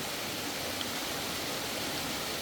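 A tall waterfall, nearly a hundred metres high, in a green jungle park gives a steady, continuous broadband roar of falling water with no breaks.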